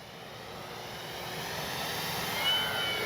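FMS P-47 Thunderbolt model warbird flying by, a faint, steady electric whine with a soft airy rush that gradually swells, heard from a distance with no voices.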